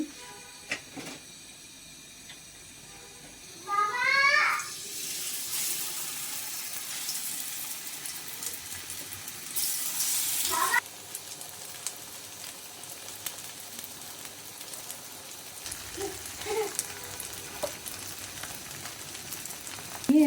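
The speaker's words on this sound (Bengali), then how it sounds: "ফ্রাইং প্যানে দিয়ে দিচ্ছি পরিমাণ মতো তেল" Oil for fried rice hisses and sizzles in a frying pan on a home stove, a steady bright crackle lasting many seconds, with a louder burst midway, some brief clinks, and almost no talk.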